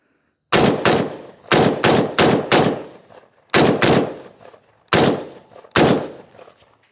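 An SKS rifle fires seven loud, sharp shots, spaced irregularly and mostly a second or so apart, each followed by a short echoing decay, with no voices.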